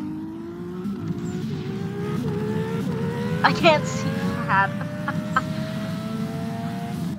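A racing car in a vehicle simulator game revving with a rising engine whine, then spinning out with squealing tires midway, while someone talks over it.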